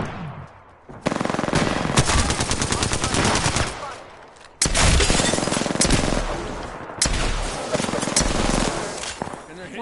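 Rapid automatic gunfire in Apex Legends, loud and close, with long sustained bursts, a brief pause near the middle, then more heavy firing. A voice talks over the shots.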